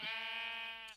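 A single sheep in a video game gives one clear, close bleat about a second long, a steady buzzing tone that trails off quickly at the end.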